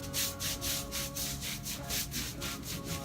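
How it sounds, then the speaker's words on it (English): A teak boat deck being scrubbed with steady back-and-forth brush strokes, a rhythmic rasping sound repeating about every half second, close and alone with no talk. "I do love scrubbing teak decks when it's on Sweet Chariot"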